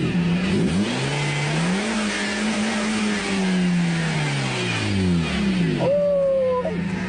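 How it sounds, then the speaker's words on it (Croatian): Petrol car engine revving at idle, rising and falling in several smooth swells over seven seconds, loud and close, with a brief higher whine near the end and no talking. "ovako benzin pali, ljudi, ovako benzin pali."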